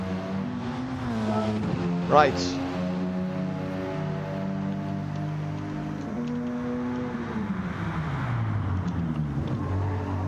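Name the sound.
race cars in a racing video game, tires sliding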